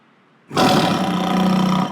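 A sudden loud roar like a lion bursts in after near silence and holds steady, a toy car's horn mimicking a big cat.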